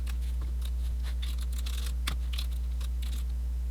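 Light, quick tapping on a computer keyboard while configuring network equipment, scattered keystrokes with a few sharper clicks, close but soft over a steady low electrical hum.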